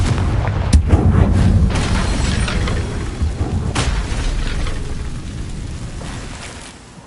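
Confringo blasting spell in Hogwarts Legacy, a loud rumbling explosion with a sharp crack at the start and a long boomy roar that slowly fades out, alone without any talking.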